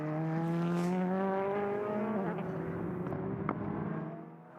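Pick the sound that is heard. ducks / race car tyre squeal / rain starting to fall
race car tyre squeal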